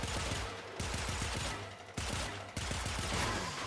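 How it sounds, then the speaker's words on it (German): Rapid machine gun fire in the video game Warframe, loud and close, running in long continuous bursts with a few short breaks between them. "Das ist ein Maschinengewehr."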